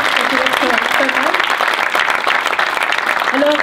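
An audience at an evening event in Saint-Etienne breaks into loud, sustained applause, with voices talking over the clapping.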